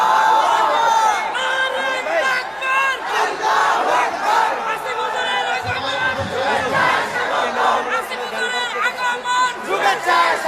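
A large crowd of young men at a mahfil shouts the takbir response in loud, rhythmic unison, with waves of massed voices rising and falling over roughly ten seconds.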